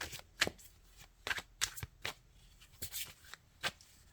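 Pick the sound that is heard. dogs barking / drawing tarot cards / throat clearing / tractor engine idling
drawing tarot cards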